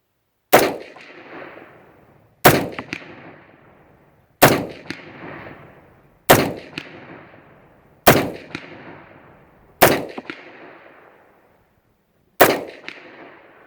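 Seven sharp gunshots fired one at a time at roughly two-second intervals during magazine testing, each loud crack followed by a short decaying echo, with no talking between shots.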